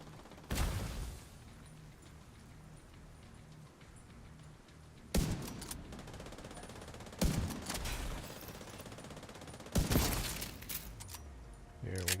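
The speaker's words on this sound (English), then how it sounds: "Somebody's lobbing grenades." In a shooter video game, grenades land and explode in a series of four heavy, close blasts a few seconds apart, each followed by crackling debris and distant gunfire, with a player talking quietly in between.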